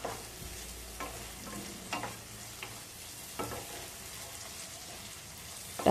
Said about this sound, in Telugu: చిన్న టమాటాలు 2 వేసి ఫ్రై చేసుకోవాలి